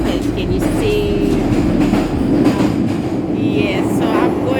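Inside a moving train in London, a loud continuous rumble of wheels and carriage fills the space, with faint rhythmic rail clatter and a brief high squeal partway through.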